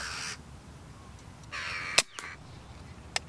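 Two sharp, harsh jackdaw calls ring out over faint outdoor background on stubble farmland, followed by a few brief clicks and thumps.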